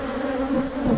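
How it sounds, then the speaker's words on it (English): A swarm of bees buzzes close around a GoPro camera, a dense, steady, unbroken drone that holds for the whole second with only slight swells in loudness. "Past all the swarm of bees, it's trying to tell the camera to go away."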